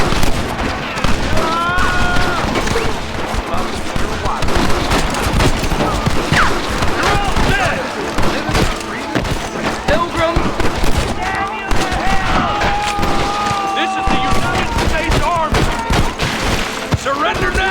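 Dense gunfire rattles through a Red Dead Redemption shootout, with sustained volleys of shots and booms and shouting voices over it throughout.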